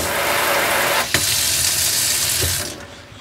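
A sink faucet in a Ram ProMaster camper van runs hard during a plumbing pressure test with the water pump on, a close, steady rushing stream that cuts off near the end.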